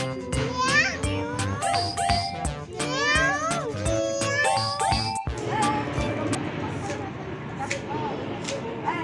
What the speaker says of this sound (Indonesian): Dia meong gimana Sena?